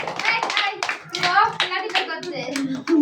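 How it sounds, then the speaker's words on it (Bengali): Children clap for two prize winners at a kids' event, a burst of quick overlapping hand claps close by, mixed with children's voices throughout. "হাততালি করবি"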